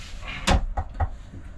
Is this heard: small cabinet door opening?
yes